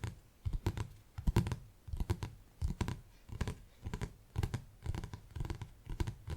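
Fingers tapping and scratching on the cover of a hardback leadership book, in a series of crisp close-up bursts of taps and scrapes separated by brief pauses, steady and intimate with no talking.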